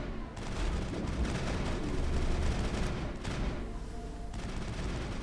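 Gunfire from the Mass Effect video game, loud rapid bursts of shots and blasts running continuously through the clip, with a brief lull near the end before firing resumes.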